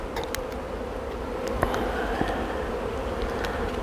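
Honey bees buzz inside a hive, a continuous low droning hum close by with no talking, and a few brief clicks above it.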